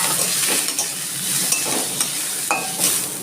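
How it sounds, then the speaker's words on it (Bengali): Mung dal frying in oil as a spatula keeps stirring it: a continuous close sizzle broken by scraping strokes and a few light metallic clinks. "এবার তেলের ভিতরে আমি মুগ ডালটা দিয়ে দিচ্ছি"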